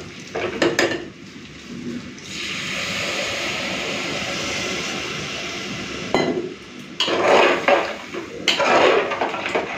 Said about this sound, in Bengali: চলুন এখন আমি গরম জলটা দিয়ে দিই।